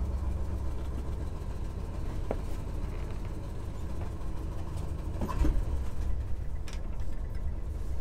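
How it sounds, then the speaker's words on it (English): A 1964 Chevy C10 truck engine idles low and steady after a cold start, a continuous deep rumble with a brief louder bump partway through. "There's the real low idle."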